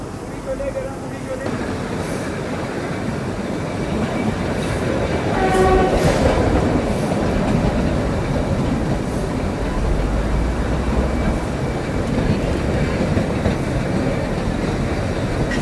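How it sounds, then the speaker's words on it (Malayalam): The Kalka-Shimla heritage train creeps uphill on its narrow gauge railway, giving a steady close rumble and clatter of the carriages, with a short horn blast partway through. "ഈ ട്രെയിൻ പതുക്കെ മൂളിപ്പറന്ന് മുകളിലോട്ട് ഇഴഞ്ഞ് കയറിപ്പോവുകയാണ്."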